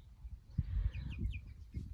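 Ameraucana chicks chirp in a few thin, high peeps over low rustling and scuffling near the ground, the calls brief and scattered.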